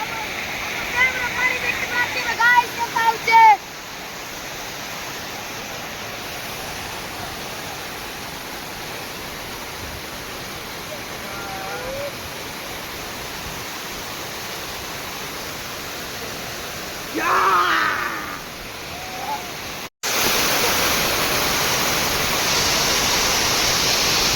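A waterfall at Tangankana rushes in a steady, broad roar throughout, with voices speaking briefly over it and a short cut near the end.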